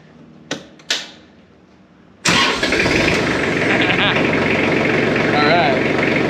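A tractor engine is cranked and fires up after two short clunks, then settles into a loud, steady mid-pitched idle that runs to the end, close to the listener.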